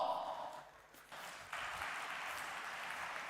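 Applause from a conference audience at a robotics event, a moderate wash of clapping that dips briefly and then swells back fuller, steady to the end.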